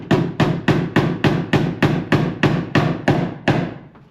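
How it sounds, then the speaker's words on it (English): Staple gun fastening electrical wire to a wooden stud in a garage: eleven sharp, evenly spaced strikes at a steady rhythm, close and loud with no talking. "I'm also going to staple our new wire a little bit further down"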